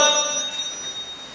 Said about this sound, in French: ma sonnette ne fait pas assez de bruit